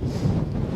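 Gusty wind buffets the microphone with a low, rumbling roar during a storm on the Strait of Magellan, loud and continuous for a brief moment.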